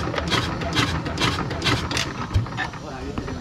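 A small boat engine is crank-started by hand on a river delta fishing trip, giving a rhythmic series of chugging mechanical pulses with a brief knock near the end, while people talk nearby.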